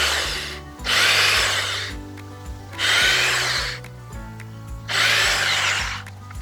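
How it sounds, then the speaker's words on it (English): A power drill boring small pilot holes in a wooden gate post for mounting hinge pins, three loud separate bursts of whirring and grinding, each about a second long, with the motor whining down between them. "we're just going to drill some small pilot holes here now for mounting the pins"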